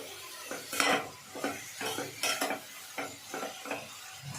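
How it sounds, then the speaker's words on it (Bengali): Vegetables for dalia khichdi fry lightly in a pan while a spatula stirs and scrapes them, giving a soft sizzle broken by about a dozen quick clinks and scrapes in an uneven rhythm. "এবারে সমস্ত সবজিগুলোকে হালকা ভেজে নিতে হবে।"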